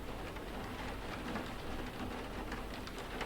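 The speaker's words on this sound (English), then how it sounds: "We're getting some rain." Rain in the survival video game Cataclysm Dark Days Ahead, a steady, even hiss of rainfall with soft pattering, fairly quiet and continuous with no voices.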